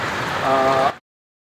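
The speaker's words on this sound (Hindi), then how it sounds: "तो मोटरवे के ऊपर जा रहे हैं और ये बारिश भी है" Rain hisses steadily around a car travelling on a motorway, a dense broadband wash with a faint engine tone underneath, nearby and fairly loud, then it cuts off abruptly into silence.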